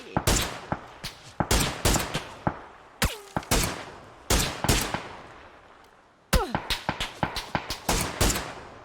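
Close, sharp gunfire in PUBG: quick clusters of cracking shots in rapid bursts separated by brief pauses, each report punchy with a short ringing tail.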